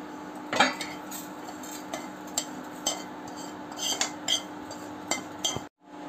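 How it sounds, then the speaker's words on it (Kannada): Metal spoon scraping and clinking against a pan as roasted semolina (rava) is moved into a bowl for avarekalu uppittu, with irregular sharp taps and scrapes over several seconds, no voices. "ಈಗ ಅದನ್ನು ಒಂದೆಳೆ ಬೌಲಿಗೆ ಶಿಫ್ಟ್ ಮಾಡ್ಕೊಳ್ತೀನಿ"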